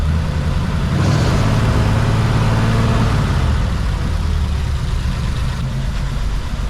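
A 1940 Mercury car engine idles at low RPM, a loud, close, steady low rumble with an even, throaty pulse and nothing else heard.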